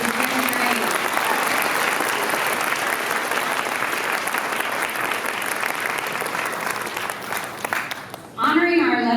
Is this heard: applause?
yes